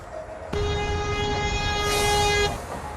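A single long, loud car horn blast sounds for about two seconds over traffic rumble in Ashgabat, Turkmenistan, then cuts off abruptly.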